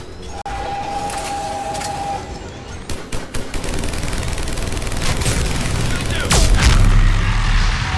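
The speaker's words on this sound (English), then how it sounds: "Harvester firing on the Turians!" Harvester in Mass Effect 3 firing on Turian forces, dense crackling weapon bursts and booming impacts building steadily over eight seconds, with a few sharp cracks and shouted voices in the mix.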